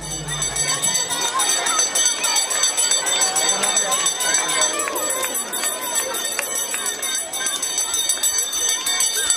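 A school bell rings continuously at a first-day opening ceremony, a bright metallic clangor held steady throughout while a crowd bustles and a voice talks over it.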